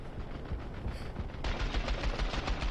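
Automatic gunfire in the video game Syndicate, a dense, rapid rattle of shots that grows louder and fuller partway through, with no talk over it.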